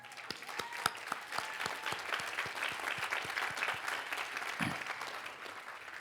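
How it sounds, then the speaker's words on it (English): Audience applause at a law school graduation ceremony: many hands clapping steadily and fairly faintly, a dense even patter with no voices standing out. "I think we owe all of our significant others a round of applause."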